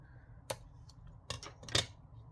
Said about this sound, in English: I'm going to cut this down a little bit here